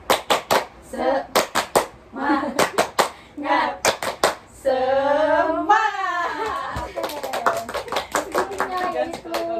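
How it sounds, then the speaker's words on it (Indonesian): A counseling group performs a rhythmic clapping cheer, sharp claps in quick patterned bursts alternating with voices chanting in unison, close and loud, ending with more clapping under talk. "Yuk, tuh 2, 3, tepuk semangat."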